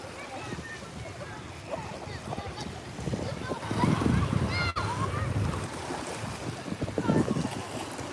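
Ocean waves break at a beach in a steady rushing wash that swells louder midway, mixed with wind noise, while people talk nearby.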